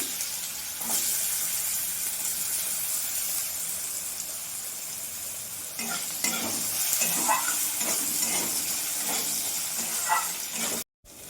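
Potatoes, a dried red chilli and Bengali five-spice frying in oil. A steady close sizzle runs throughout, with stirring scrapes and clatter in the second half and a brief cut near the end. No one speaks.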